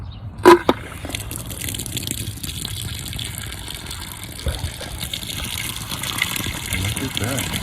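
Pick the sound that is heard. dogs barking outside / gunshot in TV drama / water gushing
water gushing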